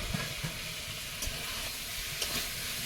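Potato and pointed gourd curry with spices and chopped tomato sizzles steadily in a pan once uncovered, a close, even hiss broken by a few soft pops and clinks, with no voices.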